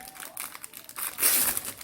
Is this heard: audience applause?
no